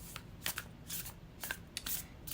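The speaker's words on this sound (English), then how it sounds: "let's shuffle with intention" A tarot card deck shuffled by hand, close and quiet, in several brisk riffling bursts separated by short pauses, with no voices.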